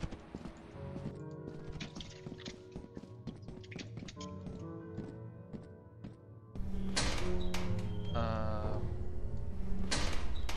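Doors in a video game opening and shutting as a rapid series of knocks and clacks, followed by a louder, fuller rattle and creak, with voices talking over it.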